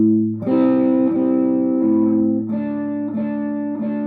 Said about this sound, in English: I'm muting the strings a little bit, so it's not so ringing out and like, too much distortion